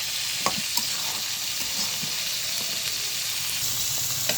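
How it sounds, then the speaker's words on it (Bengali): Chicken and cauliflower masala with mustard paste being stir-fried in a pan, a steady close sizzle broken by occasional light spoon clicks and stirring scrapes, continuous throughout, with no talking. "আস্তে আস্তে কষাই দেবো।"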